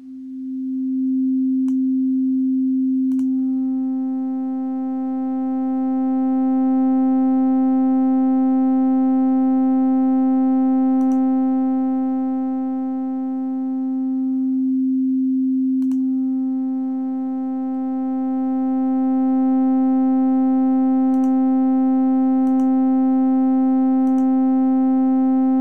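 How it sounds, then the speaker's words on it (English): A synthesizer oscillator in the miRack Tact-1 controller tutorial setup sweeps from a pure sine tone toward a buzzy square wave, a steady loud drone whose harmonics grow in, drop away briefly midway, then return. "if I reverse this, it will go to minus 10. And you will see how it moves from the sine wave to the square one"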